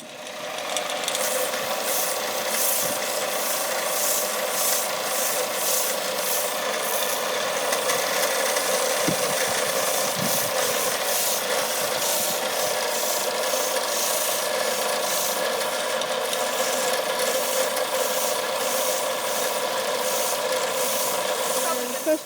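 Steady, continuous rasping of sandpaper rubbed back and forth by hand over a lignum vitae wooden war club, close and even in loudness throughout, with no talking.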